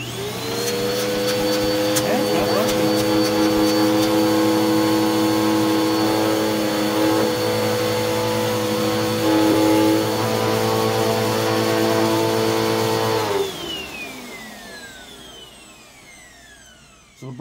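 A Bissell PowerForce Bagless Turbo (6585) upright vacuum cleaner runs with its hose pulled off, giving a steady loud motor whine and airflow roar. After about thirteen seconds it switches off and winds down in a falling whine.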